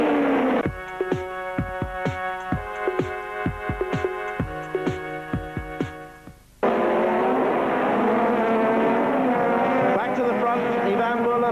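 British Touring Cars from the 2004 BTCC season braking into and powering out of the hairpin at Mondello Park, a loud engine roar with rapid gear-change pulses that shifts into a steady, dense drone of several cars, with a commentator talking over it.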